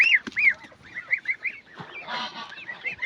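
Geese honk repeatedly in short, loud bursts, several birds calling over one another with a brief rustle midway.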